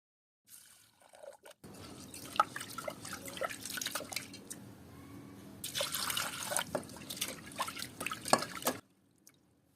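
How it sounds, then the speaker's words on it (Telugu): Water splashes and drips as lentils are rinsed in a pressure cooker, with irregular sloshing and trickling close by, fairly quiet overall. "ఇప్పుడు దీన్ని కుక్కర్లోకి తీసుకుని శుభ్రంగా కడగాలి"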